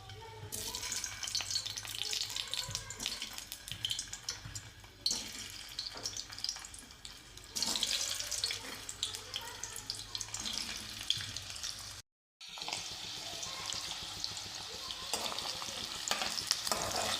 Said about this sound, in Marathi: तेल गरम झालं आहे आता याच्यामध्ये हे बटाटा थोडं मी फ्राय करून घेतो